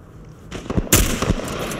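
Video-game gunfire rings out during an enemy encounter at a lakeside dock, with a few sharp, close shots and a loud burst near the middle, then decaying echoes.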